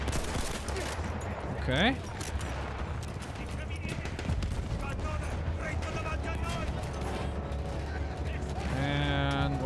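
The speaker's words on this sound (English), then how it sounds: "they're firing at us from the vehicle, which is not good" An enemy vehicle fires on the player in a Battlefield 1 campaign battle, with dense rapid gunfire bursts and mechanical clatter running throughout, close and steady, while someone speaks briefly over the noise.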